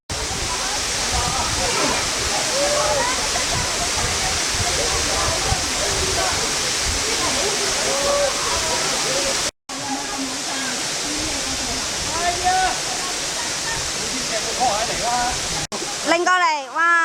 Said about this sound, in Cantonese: 睇下呢個主瀑